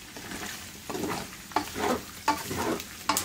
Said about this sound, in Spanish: aquí tenemos que estarle mueve y mueve para que no se nos peguen